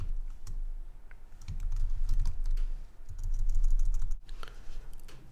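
Rapid, continuous typing on a computer keyboard while entering text into a website text field, with dense close key clatter running throughout and a brief pause near the end before it resumes.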